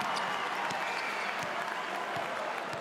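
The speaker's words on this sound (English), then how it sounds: "Urged on by the crowd." Basketball arena crowd at a Champions League game cheering and applauding steadily, a dense continuous wash of clapping and shouts with a few sharper peaks, loud and close throughout.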